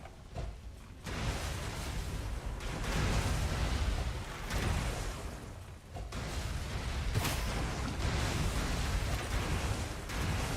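Explosions in the video game Gunfire Reborn come as a faint, dense run of overlapping booms and bursts, broken by a few short pauses, with no talking.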